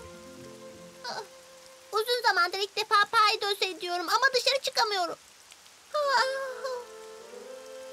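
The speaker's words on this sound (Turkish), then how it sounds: "Ama yağmur yağıyor." Soft, steady rain hisses in the background while someone speaks over it, her voice much louder than the patter.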